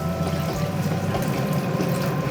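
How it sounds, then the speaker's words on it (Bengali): Boiled water from cooking meatballs is poured into a pot of chicken kofta curry, giving a continuous gurgling, splashing stream that stays steady and close for a couple of seconds. "এইবার আমি এর মধ্যে এটা দিয়ে দেবো"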